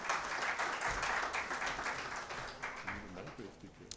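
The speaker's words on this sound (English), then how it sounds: "please give him a big round of applause" An audience at an annual event applauds, with dense clapping throughout that fades a little toward the end, and a faint voice mixed in underneath.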